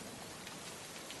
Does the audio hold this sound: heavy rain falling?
yes